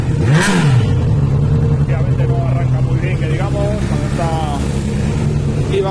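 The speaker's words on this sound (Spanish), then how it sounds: "Vamos a arrancar la moto para monitorizarla." A Honda CBR600RR sport motorcycle engine, running poorly with a power dip, idles steadily at close range with a brief rev near the start, a continuous droning hum under intermittent speech.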